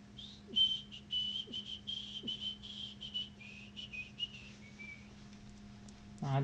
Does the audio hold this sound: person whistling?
yes